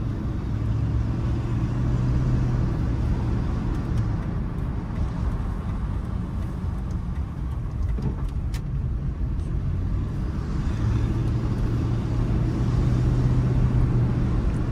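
A 2000 Ford F-150 pickup truck with a 4R70W transmission drives steadily, its engine and road rumble continuous and close from inside the cab, with a low droning tone rising at the start and end.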